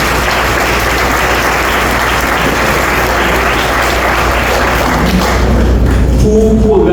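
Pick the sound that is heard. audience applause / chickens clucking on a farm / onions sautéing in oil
audience applause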